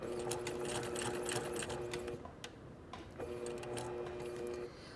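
A sewing machine runs steadily through a fabric seam, its close, rapid mechanical whir pausing briefly near the middle before starting up again.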